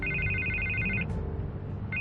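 A telephone rings in Batman: The Telltale Series with a steady, bright electronic trill that cuts out briefly and starts again, loud and close over a low, dense game soundtrack.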